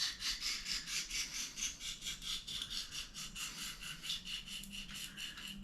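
A knife blade is stroked back and forth on an oil stone, producing a repeated rhythmic rasping scrape, about four strokes per second, close and fairly quiet with no voices.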